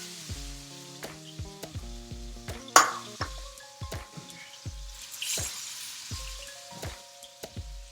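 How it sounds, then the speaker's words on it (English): Steady crackling sizzle of chicken frying in a pan, with regular clinks and taps of a utensil against the pan throughout. "I'm going to put it in this pan. You can see it's sizzling up pretty good."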